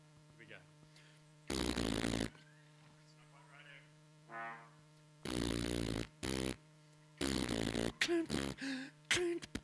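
A human voice imitates a farty sound in short, buzzy, raspy bursts. The bursts repeat several times with pauses to open a comic science-of-sound song, close and loud against a faint steady hum.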